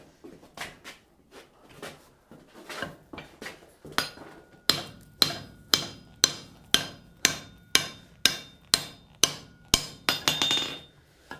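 Hammer blows forging hot steel bar into a round eye for a bowl stake, sharp ringing strikes, scattered at first then a steady, even run of about a dozen close, loud blows.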